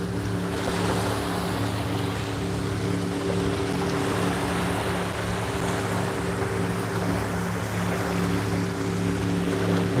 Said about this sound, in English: the boat is going like back to the,